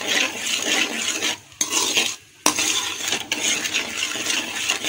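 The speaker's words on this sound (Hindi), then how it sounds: "बादाम और पिस्ता जो है वो भी मैंने थोड़ा थोड़ा रफ सा कटिंग करके इसमें डाल दिया है। थोड़ा सा इसको भूनेंगे" Chopped almonds and pistachios stir-fry in oil for semolina halwa, a steady close sizzle with scraping spoon strokes against the pan and two brief pauses.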